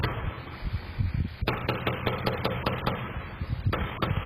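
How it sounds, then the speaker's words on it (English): Gunfire during a deadly shootout in a Forney neighborhood near a middle school, a rapid string of sharp bangs heard from some distance over background noise and muffled sounds. "Here's sound of the gunfire."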